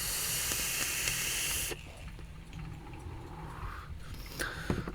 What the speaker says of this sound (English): Take another hit.